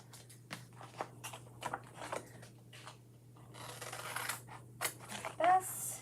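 Scissors cutting a chalk transfer, a series of close, sharp snips and paper rustles at an uneven pace, with a low electrical hum underneath.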